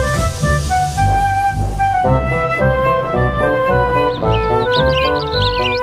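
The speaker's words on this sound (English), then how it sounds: "At Toby's shed, the birds were still chirping." Birds chirp near a railway shed in an animated children's scene. Bright, quick chirps come in toward the end over continuous, tuneful background music.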